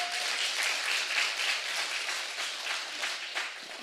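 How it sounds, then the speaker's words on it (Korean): An audience bursts into sustained applause and clapping for two pastors at a Korean church revival meeting, a dense wash of hands that stays loud, then eases slightly toward the end. "두 분을서 박수 한번 쳐주세요"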